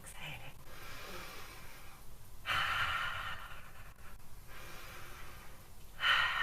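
Slow, audible exhalations during a yoga exercise, a few soft breathy pushes of air rising and fading at close range, with light room noise between them.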